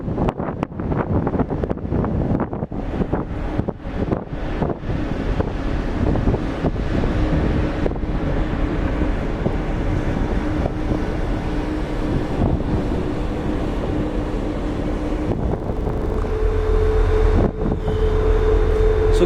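Damp, breezy wind buffeting the microphone on the open top deck of a ferry crossing to Newfoundland on a grey day, a steady rumble with the ship's engine hum beneath and someone speaking at times.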